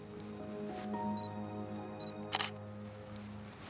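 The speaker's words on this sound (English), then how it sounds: "Let's take a shot and see what we get." Canon EOS DSLR shutter firing once with a 10-22mm lens, a quick sharp mechanical clack standing out over a quiet hum of outdoor background.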